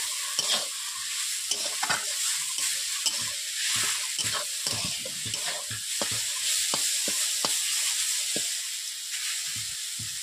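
Gima greens and potatoes are stirred in a wok with a steady sizzle, and sharp scraping spatula strokes repeat close up for the whole stretch.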